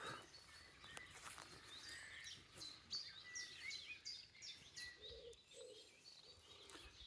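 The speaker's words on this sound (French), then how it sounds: "Toujours le calme, les petits oiseaux." Small birds chirp and tweet in a quiet private garden, scattered high calls near and far, with a few lower cooing notes toward the end against faint background.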